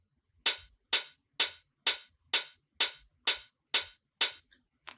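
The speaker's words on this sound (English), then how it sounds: "We have our hi-hats." Soloed hi-hat sample from an Ableton minimal house track plays about ten crisp, evenly spaced bright hits, each with a short fading tail.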